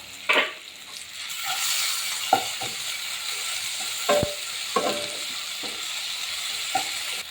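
Onion, tomato, ginger-garlic and green chili paste frying in a pan for an egg and spinach dish, with a soft continuous sizzle broken by occasional spatula taps and scrapes, close and moderately loud.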